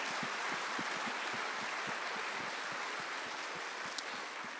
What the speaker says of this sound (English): let's give them a round of applause for sharing their advice and their experience